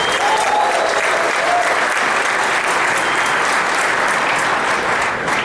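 Dense, sustained applause and cheering from a large audience at the Trimble Dimensions conference, loud and continuous with no break throughout.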